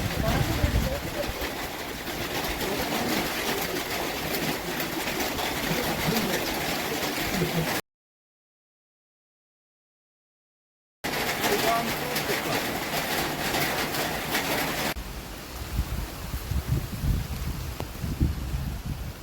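Heavy rain at the top of Silent Valley National Park: a dense, steady roar of falling water with voices faintly under it, broken by a few seconds of complete silence midway before the downpour resumes.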